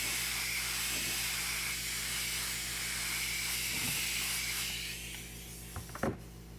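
An airbrush laying a second coat of dark blue paint on a 1/4 scale custom model, a steady airy hiss for several seconds that cuts off, followed by a few faint handling clicks.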